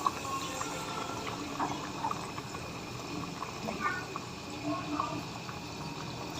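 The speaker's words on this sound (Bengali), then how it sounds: "আমি একটা একটা করে ভেজে নেব" Sweet donuts made from milk-soaked vermicelli bubble and hiss steadily in hot oil over a medium-low flame, dropped in one at a time, with a soft, continuous crackle and faint occasional clinks.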